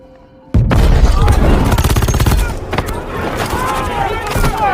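Gunfire erupts in a Godzilla: King of the Monsters action scene, a loud sudden burst of rapid, overlapping shots and booms that continues for a few seconds before thinning into scattered firing.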